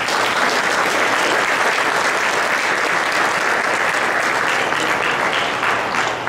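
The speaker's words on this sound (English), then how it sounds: "Let's give those guys a round of applause" A keynote audience at CES gives a loud, sustained round of applause for NVIDIA's Tegra 4 team, a thick, even wash of clapping that runs the whole time with no speech over it.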